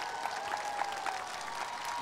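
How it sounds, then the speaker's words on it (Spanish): Audience applause at a Spanish-language Sunday TV variety show, a steady dense wash of clapping from a crowd, moderately distant and even throughout with no talk over it. "¡Palmas para Mari Carmen!"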